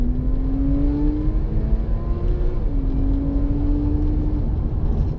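A 2010 Porsche 911 Carrera pulls hard in second gear from around 4,000 RPM, its engine note a steady rising drone with a small dip partway through, heard from inside the cabin over constant road rumble.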